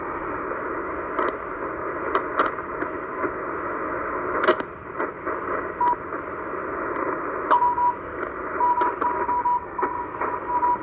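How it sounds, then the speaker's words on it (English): Shortwave radio static with faint, brief tonal beeps coming and going, distant Morse code CW signals among hiss and crackle, on a band scan between 7000 and 8000 kHz. "Some CW there, Morse code."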